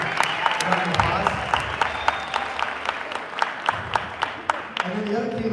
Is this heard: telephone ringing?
no